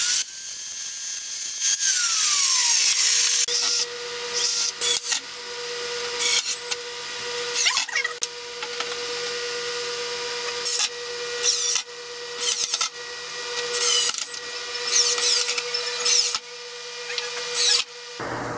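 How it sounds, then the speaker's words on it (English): A metal cutting saw slices through a continuous steel hinge being recycled for a fold-down wall desk, a steady high whining grind running nearly throughout, close and loud, with short breaks and shifts in pitch as the blade works through the metal. "Now I'm just going to bring it over to my metal cutting saw and I'm going to cut it up."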